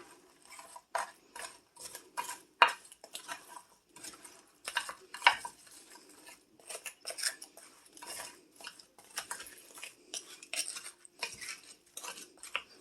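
A spoon clinks and scrapes against a dish while broccoli, chicken and rice casserole is stirred together with shredded cheese, a close, irregular series of sharp taps and clatters with no talking.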